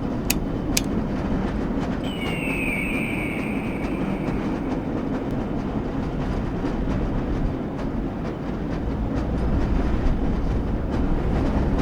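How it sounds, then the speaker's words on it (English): A lever-controlled train from the Black Mesa video game rolls along with a steady, loud rumble and rattle, joined by a couple of sharp clanks near the start and a brief high squeal. "This lever-controlled train will transport you to a location where your training associates are waiting for you."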